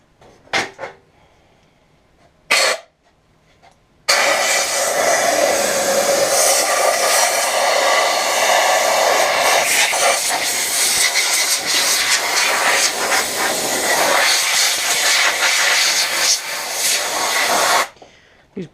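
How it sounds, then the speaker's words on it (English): An air compressor starts up and runs as a loud, steady rushing hiss for about fourteen seconds before cutting off abruptly. A few short clunks come before it starts. "Hey, the air compressor's back on."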